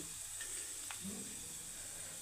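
Chopped onions and dried chillies sizzle faintly in hot oil, a soft steady frying hiss with a brief stir partway through and no talking.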